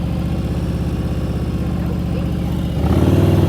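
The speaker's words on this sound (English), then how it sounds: "In the friction zone, dragging the rear brake. I can come to a full stop." A motorcycle moving slowly in the friction zone with the rear brake dragging, its engine thumping in a steady low idle-like pulse that rises into a louder, deeper rev near the end.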